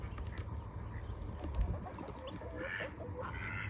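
Guinea fowl and ducks call in a busy farmyard with goats and chickens, quacking ducks and scattered chattering guinea calls over a steady outdoor background.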